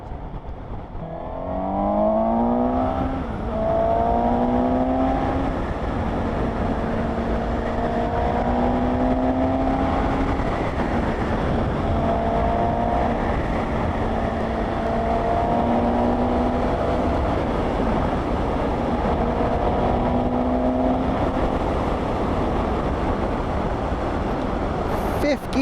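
A 2020 Suzuki GSX-S750 motorcycle engine whines and climbs in pitch through repeated roll-on accelerations in fifth gear on an A road, a close, loud engine note over wind rush, with someone talking throughout.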